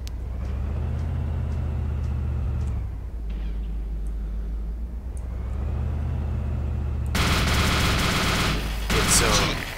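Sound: gunfire from a moving vehicle in video game Arma 2

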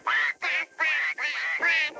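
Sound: duck quack from a talking toy

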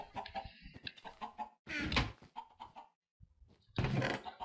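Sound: chicken clucking in the video game Minecraft

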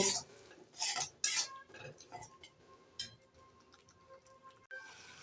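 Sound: stirring spice masala in a pan

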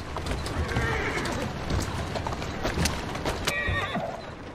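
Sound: horse neighing and hooves in Assassin's Creed Syndicate video game

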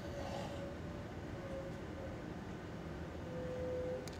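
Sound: Sembrani executive train stopping at Bojonegoro station

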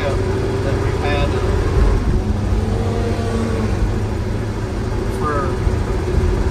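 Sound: 1949 Studebaker pickup truck engine running

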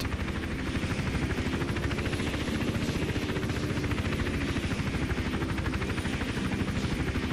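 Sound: helicopter in video game Hitman: Absolution

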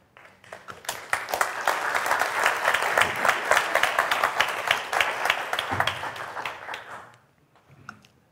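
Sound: audience applause after a talk

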